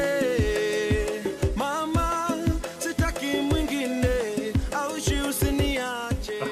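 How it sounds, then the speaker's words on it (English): High-pitched hand drum playing a rhythm, sharp repeated strikes in a steady looping pattern, set in a full band mix with guitar-like melodic lines and low percussion. "you're going to hear a higher pitched drum"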